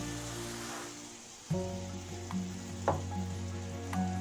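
Rice appam batter frying in hot oil in a kadai, a Karthikai Deepam arisi appam, gives a steady close sizzle with a sharper burst partway through, over a faint tonal hum.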